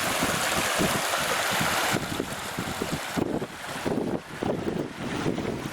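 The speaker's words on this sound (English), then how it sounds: "You can hear the water." Steady rushing water of the Ashburton River fills the scene, a broad constant wash with gusty wind buffeting the microphone.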